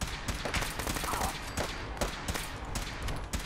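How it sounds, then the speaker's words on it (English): Gunfire in the video game Fallout 4, a dense, fast run of overlapping shots and bursts at moderate loudness, continuing through the short stretch with a voice faintly underneath. "Alright, good shooting, Walker, Texas Ranger"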